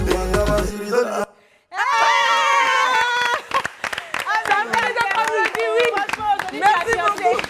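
Scattered audience clapping follows the end of a song, with uneven claps rattling on for several seconds while someone talks over them.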